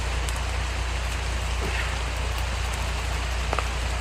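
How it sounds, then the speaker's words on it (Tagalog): Heavy rain pours down steadily, a dense continuous hiss with occasional louder drops hitting a surface close by. "Nagpapahinga muna tayo kasi malakas yung ulan."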